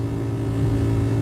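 A car moves through heavy traffic, its engine giving a steady mid-range hum with slight revving, close and continuous with no one talking.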